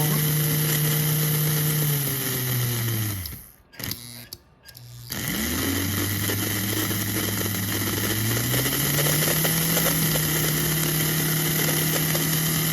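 A 1948 Royal Blue 350 4-6-2 Pacific model steam locomotive motor runs on a test stand at a steady whirring hum, briefly dropping to near silence before spinning back up and holding a constant drone.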